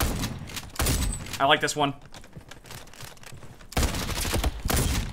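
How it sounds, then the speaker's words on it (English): Shotgun blasts in the online shooter Frontlines: several sharp, loud bursts at the start and again near the end, with a player's excited voice talking over the gunfire in between. "Yeah, this shotgun's good."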